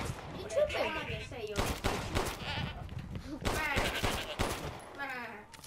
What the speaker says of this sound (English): I wasted too many bullets on this meat.